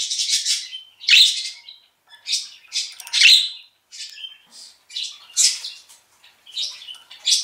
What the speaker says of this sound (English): You're the first bird that's chewing on this calcium perch.